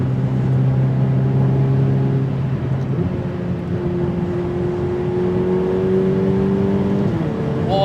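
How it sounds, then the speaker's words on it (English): Ferrari 488 Pista supercar accelerating hard, its engine droning loud and close with rising tones that drop at quick gear shifts, a steady roar throughout with no talking. "let's now push the car and see what it can do"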